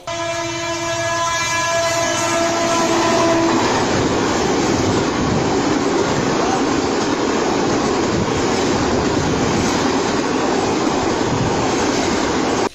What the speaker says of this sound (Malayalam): ലോക്കോ പൈലറ്റുമാർ നിരന്തരം ഹോൺ മുഴക്കിയെങ്കിലും യുവാവ് മാറാൻ കൂട്ടാക്കിയില്ല